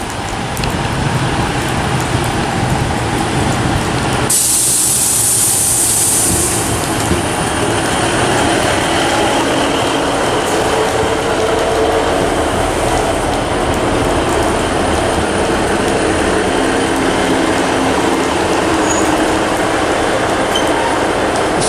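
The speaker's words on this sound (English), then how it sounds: "arriving in is a terminating Great Western Railway service from Gunners Lake" A Great Western Railway train terminating from Gunnislake rolls into platform 3 at Plymouth station. It makes a loud, continuous rumble of wheels and carriages close by, with a brief high wheel squeal early on and no talk.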